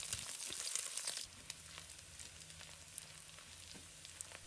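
Ginger and scallions are added to a wok of rendered pork belly fat, bringing a soft steady sizzle and frying crackle with a few faint stirring scrapes, heard close and quiet.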